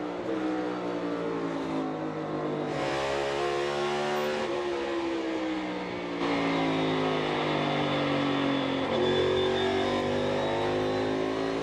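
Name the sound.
NASCAR Cup race cars downshifting for corners at Richmond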